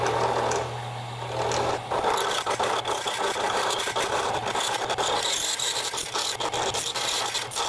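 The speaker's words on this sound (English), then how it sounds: "I bet you've never seen someone turn a socket on a wood lathe before" A metal socket spins on a wood lathe while a tool scrapes and rasps against it, a steady motor hum under gritty, rattling grinding that continues close and loud throughout.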